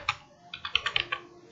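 Computer keys tapped in a quick, uneven burst of about eight clicks, crisp and close, with no talk over them.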